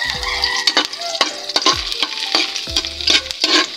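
Chopped garlic sizzles in a hot pan while a utensil stirs it in quick, repeated scraping strokes, close up and fairly loud, with no voices.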